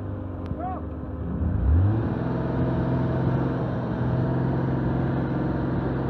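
A 4x4 engine revving hard while stuck in beach sand at Stockton Beach, Australia, a steady loud rumble that swells and holds, with voices shouting nearby.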